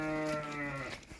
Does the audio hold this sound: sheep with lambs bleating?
yes